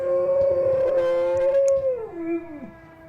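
A dog gives a long, sustained howl that holds a steady pitch and then slides downward, imitating a passing fire truck siren, fairly close and loud.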